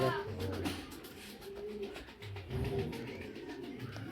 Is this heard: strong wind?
no